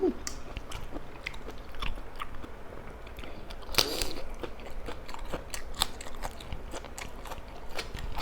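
Someone bites and chews a large mouthful of fresh shrimp papaya salad up close, with continuous wet crunching and smacking plus sharp crisp bites scattered throughout.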